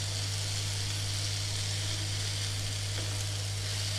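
Okra masala sizzles steadily in a pan on a low gas flame, a continuous close frying crackle with no talking over it.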